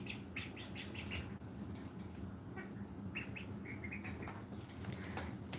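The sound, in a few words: ducklings peeping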